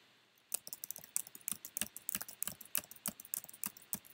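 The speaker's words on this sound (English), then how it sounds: "if I were to keep typing, it'll turn red" Someone types on a computer keyboard, a quick, uneven run of crisp key clicks, close and clear against a quiet room.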